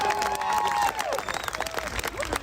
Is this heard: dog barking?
no